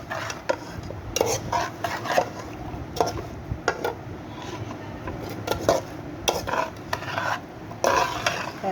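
Shing fish being hand-mixed with small potatoes and oil in a pan, giving close, uneven scraping and clattering strokes in repeated bursts with no talk.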